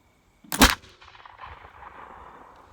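A 1728 French blackpowder infantry musket fires one loud close boom that rolls off into a long fading echo across an outdoor range.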